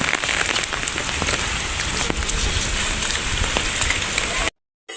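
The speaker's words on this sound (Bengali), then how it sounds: "বৃষ্টি পড়তেছে মোটামুটি ভালোই" Heavy rain falls steadily on surfaces nearby in a rural spot with ducks, heard from under an umbrella as a dense, even hiss with scattered drop impacts, cutting out briefly near the end.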